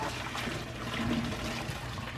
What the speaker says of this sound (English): we're going to pull these over in the strainer and strain them